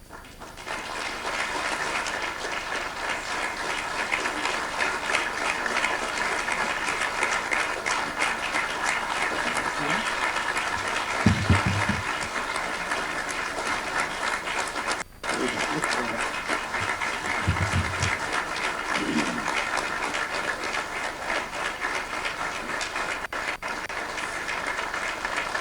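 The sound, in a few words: audience applauding António Guterres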